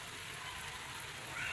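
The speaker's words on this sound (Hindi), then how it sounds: "बारिश और तेज़ हो गई" Steady rain falls in Lahore, a soft continuous hiss of drops on surfaces that stays fairly even and faint, with a slight rise near the end.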